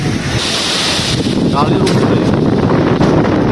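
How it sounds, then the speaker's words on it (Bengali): Strong gusting wind before a storm in Bogura after humid heat roars loudly and steadily into the microphone as rumbling buffeting noise, with a voice faintly beneath it. "প্রচণ্ড বাতাস"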